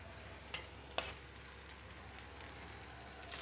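Maggi noodles tipped into a pan of frying onions, cumin and chilli and stirred, a faint steady sizzle with two sharp clicks of the spoon against the pan near the start.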